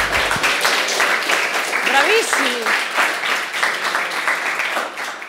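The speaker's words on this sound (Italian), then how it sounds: "applauso pacato" Studio audience applause on a talk show, a steady patter of clapping throughout with a voice briefly heard over it in the middle.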